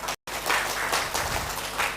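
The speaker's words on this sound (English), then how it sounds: "Let's clap again." Audience clapping at an optics and lasers summer school session, a steady sustained round of applause after a brief cut at the start.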